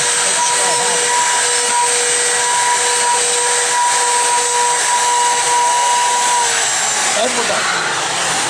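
A wood router running steadily through a final pass in a dovetail jig, a loud continuous whine with a steady pitch that holds for several seconds and then winds down near the end.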